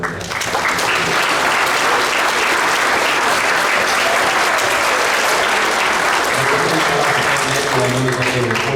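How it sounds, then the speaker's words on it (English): Audience applause at a middle school eighth grade band concert, a dense continuous clapping from a full room that holds steady throughout, with faint voices underneath. "big round of applause for that"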